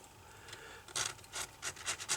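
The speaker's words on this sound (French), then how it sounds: "on prend son cutter et on frotte" A utility cutter blade scraping glue off the frame of an iPad 2 after the touch glass is removed, heard as short, close, gritty rubbing strokes in an uneven rhythm.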